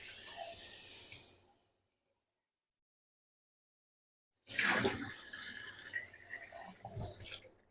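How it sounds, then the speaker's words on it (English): Running tap water rinses out a bowl at a kitchen sink, splashing and hissing close by in two bursts, the first a couple of seconds long, then silence, then a longer, louder rush of water. "so I'm going to go ahead and rinse this out."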